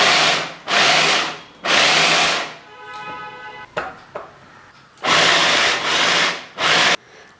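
A hand-pulled vegetable chopper whirs in short pulses, loud and close, with about six bursts separated by brief pauses and light clicks of the mechanism between them.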